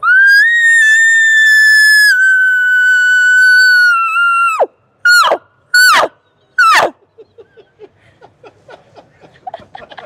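A person imitates a bull elk bugle: a long, loud, sustained whistling tone that rises and holds for several seconds, then three sharp descending chirped grunts, followed by quieter scattered clicks and breaths.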